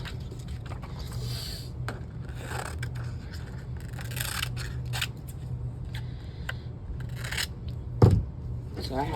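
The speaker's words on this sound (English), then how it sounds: "while it's drying, I'm going to cut this piece out so that I have" Scissors snip acetate sheet for dies in short, close, quiet cuts and scrapes, with soft rustling and a low background hum.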